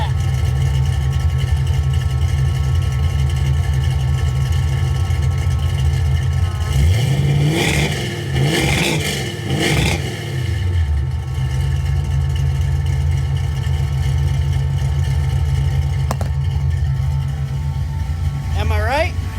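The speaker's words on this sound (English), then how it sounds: "there's nothing that sounds like a Fox body, a 5-liter, whatever, Mustang with Flowmasters. These are 10 series." A Fox body 5-liter Mustang with Flowmaster 10 series exhaust idles with a deep, lumpy burble, then blips the throttle in a few quick sharp revs midway before settling back to idle, heard up close.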